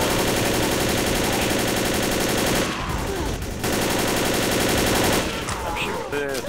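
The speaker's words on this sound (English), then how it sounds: "I'm shooting the tank in the ass" Rapid automatic gunfire in the video game Left 4 Dead, aimed at the Tank, a dense continuous rattle of shots that briefly drops out midway then resumes, loud and close with a voice faintly mixed in.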